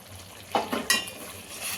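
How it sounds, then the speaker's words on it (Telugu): A lid goes onto a pot of chicken masala curry over gentle frying, with two close metallic clanks a moment apart against a quiet sizzle and no talking. "ఇది మూత పెట్టేసుకుందాం."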